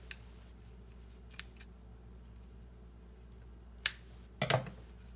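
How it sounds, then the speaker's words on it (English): Scissors snipping off the ends of a ribbon bow, a few quiet separate clicks and then a crisper close double snip near the end, over a hushed room. "And then I cut my ends off."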